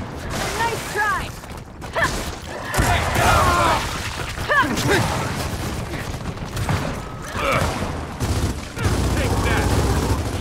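Gunfire rattles through a Gears of War 4 campaign battle, with bursts of shots, clanks and booms layered in a dense, continuous game mix while a player talks over it.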